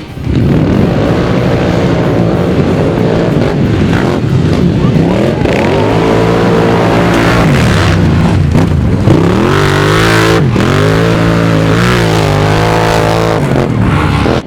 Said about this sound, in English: The ATVs will be racing for 2 solid hours on a very extreme course.